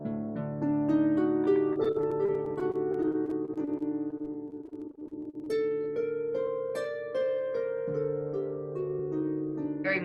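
A harp retuned to an unfamiliar, non-Western scale rings out in layered sustained notes and arpeggios, with a dense, continuous resonance that briefly thins in the middle and then returns with fresh plucked notes. No one talks.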